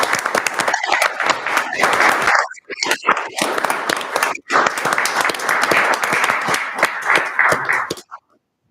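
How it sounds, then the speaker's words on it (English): A town council meeting crowd breaks into sustained, loud applause, dense clapping for about eight seconds before stopping abruptly. "Let's have a round of applause."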